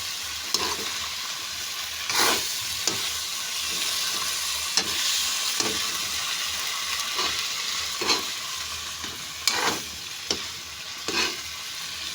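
Cabbage sautéing in a hot pan for ginisang repolyo with sardines: a steady sizzle broken by repeated scrapes and stirs of a utensil, fairly close and with no talking.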